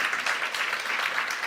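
Brief round of audience applause on a main stage at a startup event, dense steady clapping from many hands, heard alone without voices.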